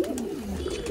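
Pigeons, including a young Kalsira pigeon and Shirazi pigeons, coo close by in a steady low throaty murmur throughout the short moment of squabbling.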